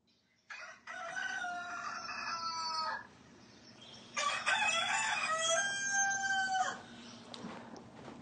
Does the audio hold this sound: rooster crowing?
yes